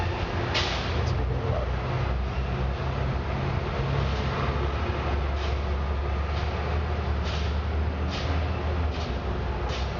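Steady street traffic rumble and hiss surround an outdoor recording, with a constant low roar and occasional passing whooshes and no clear speech.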